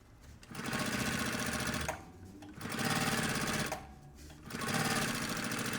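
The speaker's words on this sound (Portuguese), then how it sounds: "Vou colocar o ponto 3 e eu vou costurar pra dentro dessa costura aqui" A sewing machine set to stitch length 3 sews a seam on a puffer backpack in three loud, close bursts of rapid whirring, each lasting about one and a half seconds, with short pauses between them.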